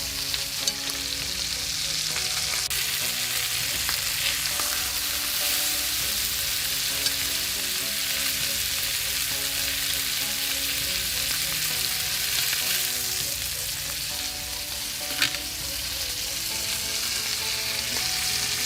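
Stuffed pork chops fry in a hot pan with a continuous, dense sizzle and crackle that holds steady for nearly twenty seconds, punctuated by a couple of faint utensil taps, with no one speaking.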